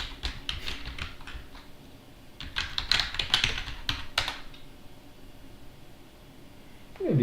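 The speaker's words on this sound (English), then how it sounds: "So you guys can see me typing" Computer keyboard typing during a local AI image-generation setup on Fedora, heard as bursts of close key clicks over the first few seconds, then a quieter stretch ending in a brief low sound, with no talk.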